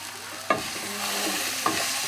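Chopped green chilies, garlic and ginger sizzle steadily in a hot pan for a chicken curry, with two sharp scraping knocks of a utensil stirring the mixture.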